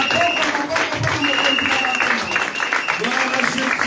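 A church congregation applauds and cheers loudly and steadily throughout, with a dense wash of clapping and voices mixed under a speaking voice.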